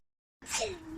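A single sneeze, sharp and close, bursts out after a short silence and tails off into a brief breathy trailing sound.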